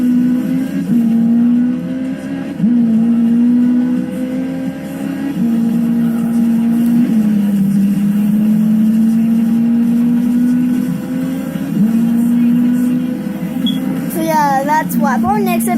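Ferrari 458 Spider engine in Need for Speed Rivals, a steady loud droning tone that wavers slightly, with someone talking over it and a brief sharp effect near the end.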